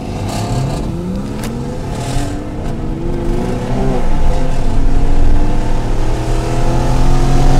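A Mercedes-AMG C63 S and a Porsche 911 Carrera S launch side by side in a race, engines roaring loudly as the revs climb through gear changes, the combined drone swelling in volume.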